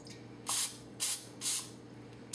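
Three short hissing bursts from an aerosol cooking spray can onto a measuring cup, evenly spaced, close and fairly loud against a quiet background, with a fourth starting at the end.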